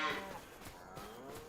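Cows in the Farming Simulator game moo low and drawn-out, faint and somewhat distant, with the lowing carrying through quiet ambient noise.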